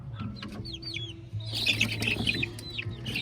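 Chicks on a farm chirp in quick high peeps that overlap into a busy cluster, close by over a low background hum, with no one talking.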